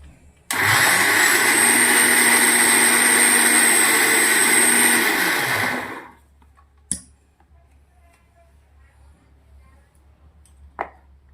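A mixer grinder whirs loudly for about five seconds coarsely grinding chillies and ginger, then winds down and stops, followed by a couple of sharp clicks.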